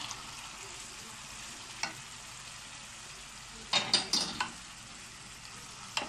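Chicken livers fry in a pan with a steady, soft sizzle, broken by a few brief clattering stirs near the end, all close and moderately quiet with no talking.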